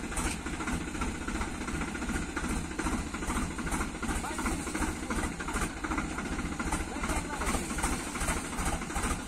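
A tractor engine idles near an old village well in rural Maharashtra, a steady close low rhythmic chugging throb that runs continuously beneath a voice speaking.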